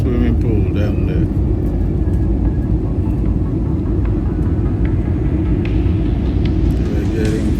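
A passenger jet cabin on approach to landing at New Delhi fills with a steady, dense low rumble of engine and airflow noise, continuous and even throughout.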